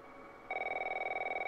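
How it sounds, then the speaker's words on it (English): A phone rings in the video game The Last of Us, starting abruptly after a short quiet stretch as a fast, pulsing electronic trill, clear and close with no speech. "And she's been woken by the sound of a phone."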